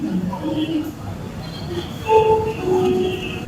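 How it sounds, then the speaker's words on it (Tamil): The Chennai Express rolls into Pune Junction railway station, a steady low rumble of the moving train with brief squealing wheel tones rising over the platform noise. "கரெக்டா நம்ம ஊரை ஞாபகப்படுத்துற மாதிரி சென்னை எக்ஸ்பிரஸ் வந்துட்டாங்க பூனேல."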